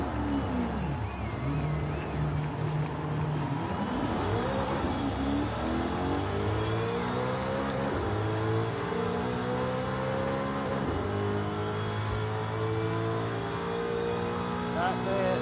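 An Alfa Romeo 155 engine in Forza Horizon 5 hums and revs steadily from inside the cabin, its pitch sweeping up and down through gear changes, continuous and fairly loud.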